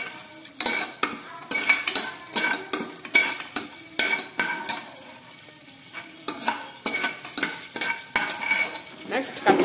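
Whole spices fry in hot oil inside a pressure cooker as a metal spoon stirs them in quick, repeated clattering scrapes against the pot, close and rhythmic over a light sizzle.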